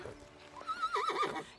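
A horse whinnies, a wavering high neigh rising and falling over about a second, preceded by faint rustling and hoof sounds, fairly close and heard alone without speech.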